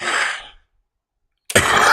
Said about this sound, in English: And I am still coughing.